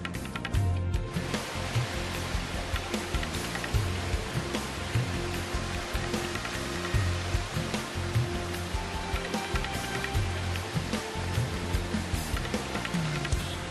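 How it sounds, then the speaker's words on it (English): A man-made fountain waterfall built along both sides of a road in Delhi gives a steady, loud rush of falling water that runs unbroken, with no voices over it. "This lovely fountain or waterfall, whatever you want to call it, has been built on both sides of the road."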